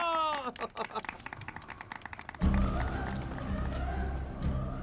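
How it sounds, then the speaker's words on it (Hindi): After someone talks, a crowd suddenly breaks into loud, sustained clapping and cheering that continues evenly to the end. "तालियां"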